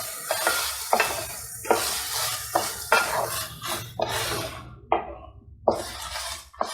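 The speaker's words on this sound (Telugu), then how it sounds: "ఇలా వేసేసిన తర్వాత ఒకసారి మొత్తం కలిపేసుకుందాం." Close, repeated scraping strokes of a spoon stirring meal maker pulao with rice in a pot, a steady rhythm of clinks and scrapes over a faint sizzle, with no voices.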